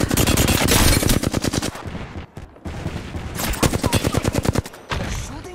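Rapid automatic gunfire from a video game rattles in dense bursts, loud and close, with a brief lull in the middle before the volleys resume.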